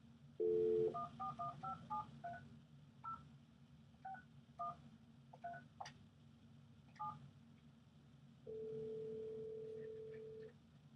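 A phone dials a cell number: a short run of distinct DTMF keypad beeps in quick irregular sequence, followed by a longer steady tone, fairly faint in a quiet room.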